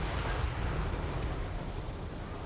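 Dwarf artillery fires in the fantasy strategy game Total War: Warhammer, a loud, sustained, heavy rumbling boom that fills the whole stretch with dense low thunder and no voices.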